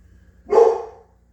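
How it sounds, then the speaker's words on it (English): A single dog bark, close and fairly loud, rising sharply and trailing off over a low background hum. "My dog is throwing a fit."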